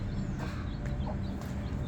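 Native village chickens clucking in a rural Bangladeshi farmyard, a soft steady run of short calls with a busy background and no talk.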